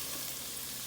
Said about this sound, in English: Everything is nice and sizzling.